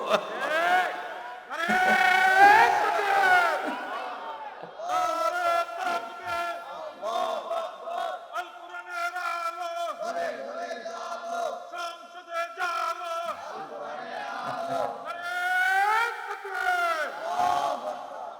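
A crowd raises a chanted takbir, "Allahu Akbar," in loud massed voices that swell and fall in repeated waves, with one voice leading between the group responses.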